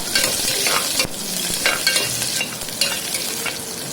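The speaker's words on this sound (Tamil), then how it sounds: "நல்லா போட்டு அதையும் நல்ல பொன்னிறமாக வர்ற வரைக்கும் நல்லா வதக்கி விட்டுக்கோங்க." Shallots and onion sautéing in a pan for a Tirunelveli-style drumstick-leaf dal rice, giving a steady, close sizzle and hiss broken by the scrape and clatter of stirring, with no voices.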